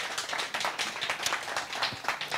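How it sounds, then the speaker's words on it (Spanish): Audience applause at an alumni gathering in Madrid, a dense, steady patter of many hands clapping for a couple of seconds. "gracias por ese caluroso aplauso"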